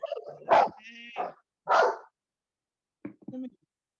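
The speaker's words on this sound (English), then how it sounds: "Who is he barking at there?" A reactive pit mix dog barks in a few loud, close, sharp bursts with short gaps between them, mixed with a high whine partway through.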